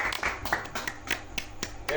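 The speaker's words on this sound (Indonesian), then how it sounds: "Tepuk tangan dulu." A class of about forty students claps together in a classroom tajwid lesson, a loose run of close, irregular hand claps with voices talking over them.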